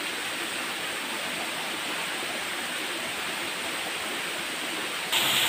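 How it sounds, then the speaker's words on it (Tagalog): Kawasan Falls waterfall in Siquijor roars as a dense, continuous rush of falling water, loud and close, alone with no talk. "So muni siya ang hitsura sa Kawasan Falls mga kayay."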